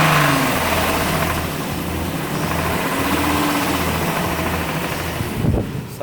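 A VW Jetta VR6 engine with a ticking fault held at steady revs with the gas pedal down, a loud, continuous drone heard close from outside the car, ending with a brief clunk and no talking.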